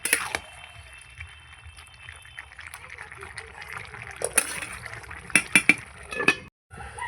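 Shukto cooking in a pot after sugar is added: a spoon stirs through the wet vegetables, giving soft liquid churning and a few sharp metallic clinks against the pot near the end, over a quiet background.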